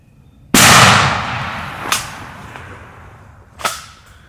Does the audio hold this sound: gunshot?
yes